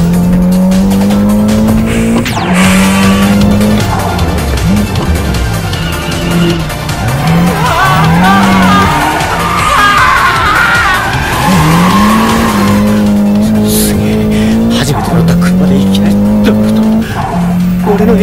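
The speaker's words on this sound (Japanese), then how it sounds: "そうだな、ブレーキングドリフト頼むよ。" A Nissan Silvia S13 in the Assetto Corsa racing game on the Akina mountain course, braking into a drift. Loud, sustained tire squeal rides over a constant engine drone with little break, and no one speaks.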